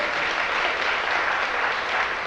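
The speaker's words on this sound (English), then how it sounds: "clap your hands if you believe that" Steady applause from a lecture audience, dense and even clapping filling the whole stretch without a break, fairly close and consistent in loudness.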